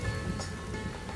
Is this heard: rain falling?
yes